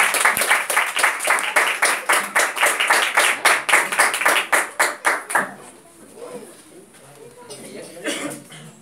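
A church congregation at a Casa de Oração service claps in a strong, steady rhythm for about five seconds, loud and close, then the clapping breaks off into quieter scattered murmuring and voices.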